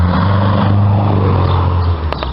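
Car passing on a nearby road beside a vegetable garden, a loud low rumbling engine-and-tire noise that holds steady and then fades slightly as it goes by, with no talk over it.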